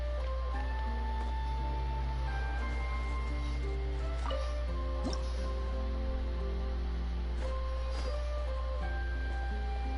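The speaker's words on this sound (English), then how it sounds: "another water droplet just came out from the wall" Water droplets dripping from a wall inside a Genshin Impact game level, a few soft, isolated drips standing out over a steady musical and ambient background.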